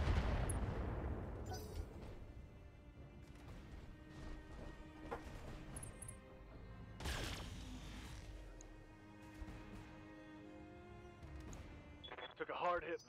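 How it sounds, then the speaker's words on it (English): In the BattleTech video game, a mech fires two lasers and SMGs in heavy booming volleys with crashing impacts, loud at the start and recurring in bursts, with talk running over the combat. "Instead, we're just using two lasers and the SMGs."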